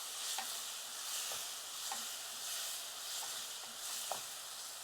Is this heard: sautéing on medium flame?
yes